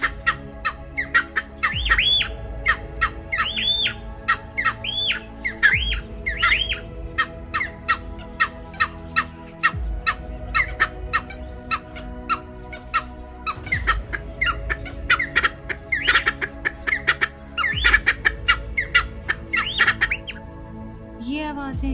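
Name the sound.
cheer pheasant calls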